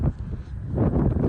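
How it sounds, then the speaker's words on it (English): Strong wind buffets and rumbles into an outdoor street microphone, a steady low roar that swells louder in the second half of the short stretch, with no clear speech over it. "It's very windy."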